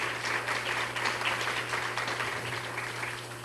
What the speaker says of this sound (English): let's give each other a round of applause for just being here